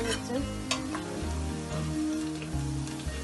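Onions fry in a pan for a Punjabi curry, a steady close sizzle with light crackling and occasional stirring clatter throughout.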